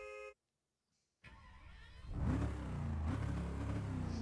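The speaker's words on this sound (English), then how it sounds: "Same engine sound." Car engine in Test Drive Unlimited 2 starting after a brief silence, then revving up and holding a loud, close, rising roar with a second surge of throttle.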